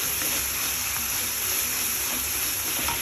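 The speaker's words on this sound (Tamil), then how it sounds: "வெங்காயம் நல்லா வதங்கணுங்க" Onions and whole spices (cinnamon, cloves, cardamom) sautéing in a pan for paneer butter masala give a steady, moderately loud sizzle and hiss that runs unbroken, with no talk.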